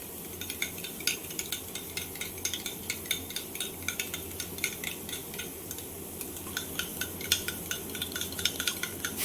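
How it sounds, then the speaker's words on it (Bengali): Yogurt whisked briskly in a bowl, a steady run of quick, light scraping ticks of a utensil against the bowl, close and fairly even throughout with no voices. "এটা আমরা খুব ভালোভাবে ফেটিয়ে নেব।"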